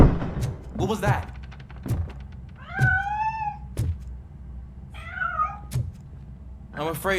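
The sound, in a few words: cat meowing in RoboCop: Rogue City video game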